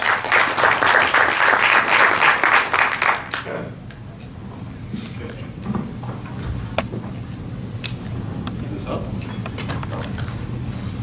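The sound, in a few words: audience applause for speaker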